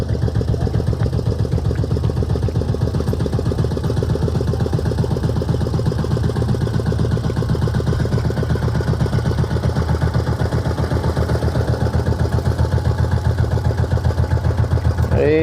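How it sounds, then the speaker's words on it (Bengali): A river boat engine chugs steadily with a rapid, even low pulse, holding a constant nearby drone for the whole stretch. "বোট চলে আসছে আমাদের মাছ নিতে"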